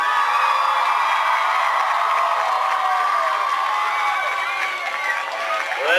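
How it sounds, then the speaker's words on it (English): A football game crowd applauds and cheers for the homecoming court, a broad, sustained roar of clapping and voices with the stadium announcer's echoing call layered over it. "One last round of applause for all the court."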